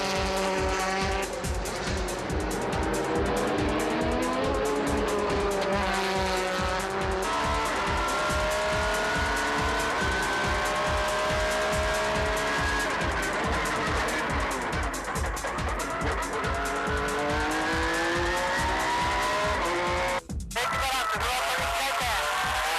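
A race car circuits Fuji in a loud, sustained engine drone, with rising and falling gear-change pitch across nearly the whole span and a brief dip near the end; tires squeal at moments as the untamed machine fights its line.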